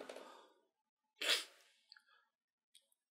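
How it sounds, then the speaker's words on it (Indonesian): A single sharp human sneeze bursts out near the mic after a breathy inhale, followed by faint small noises and quiet. "tadi gue agak sedikit bersin"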